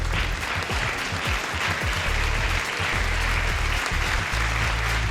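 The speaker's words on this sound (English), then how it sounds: "Please give a round of applause for the host of Time Check, Slurp on Lipstick." A studio audience claps loudly and steadily to welcome a show's host, a dense, continuous wash of applause that holds for the whole stretch without any voice over it.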